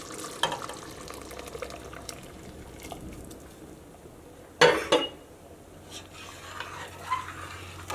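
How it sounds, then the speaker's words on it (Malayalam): Milk is poured into a pan of moong dal payasam made with jaggery, producing a soft liquid pour under a low background hiss, with a couple of louder utensil clinks midway. "ഞാൻ അതിലേക്ക് പാല് ചേർക്കാൻ വേണ്ടിയിട്ട് പോവാണ്."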